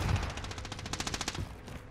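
Rapid bursts of automatic gunfire in Call of Duty: Warzone battle royale, a fast rattling string of shots that fades out near the end, with no talking.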